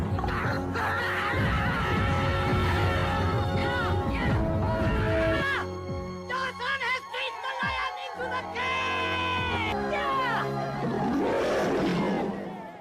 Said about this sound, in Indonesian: akhirnya Lee memberanikan dirinya untuk mengusir singa tersebut